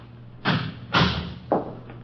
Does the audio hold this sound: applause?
no